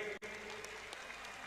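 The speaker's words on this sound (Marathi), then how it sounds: "टाळ्या करा की त्याच्यासाठी" A wrestling-event crowd applauds in a steady, dense wash of clapping that sounds distant and faint and continues throughout without a break.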